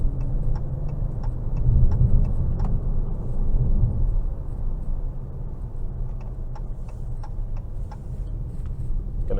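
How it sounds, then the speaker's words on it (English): A 2022 Dodge Challenger GT Blacktop engine in sport mode gives a steady low drone that swells briefly as it pulls out of a corner, with faint regular ticking sounding over the rumble and no talk. "I got higher up in the RPMs than I was expecting"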